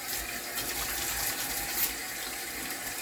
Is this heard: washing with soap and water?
yes